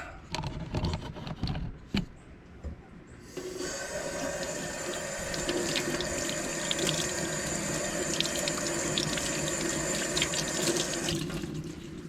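Tap water runs steadily from a faucet into a sink, rinsing a freshly cleaned pinfish; after a few brief clatters the flow settles into a continuous, close splashing hiss with no talk.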